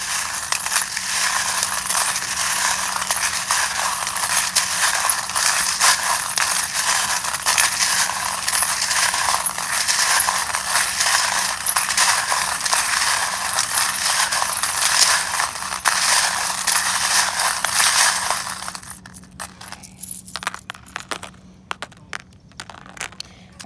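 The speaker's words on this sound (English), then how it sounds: "if you don't like the sound of the charms" Small metal tarot-reading charms rattle and clink continuously for most of the span, a dense jangling shuffle up close that drops away to a few scattered clicks near the end.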